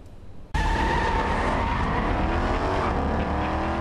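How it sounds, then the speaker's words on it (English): A Shelby Mustang GT muscle car at the Detroit auto show in Cobo hall bursts into a loud, roaring exhaust that starts abruptly and holds steady, echoing off the indoor walls. "Shelby Mustang has a distinct exhaust tone, and it reverberated off the walls at Cobo today"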